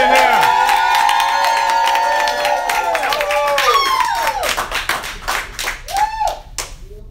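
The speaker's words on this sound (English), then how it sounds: "I want everybody in this room to give themselves a big round of applause" A room full of people breaks into clapping and cheering, with whoops and sustained tones at first, then dense, loud applause that thins into scattered claps.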